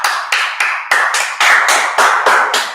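Rhythmic hand claps from a group at a Friday night class in Durham, North Carolina, about ten sharp, loud, evenly spaced beats up close.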